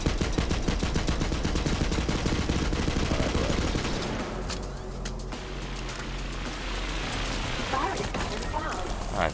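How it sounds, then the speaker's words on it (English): A Gatling gun fires rapidly in the Borderlands 3 video game, a dense sustained rattle of shots that eases in the second half as a voice talks over it. "Gatling gun is so stupid. It has a recoil that I have to manage."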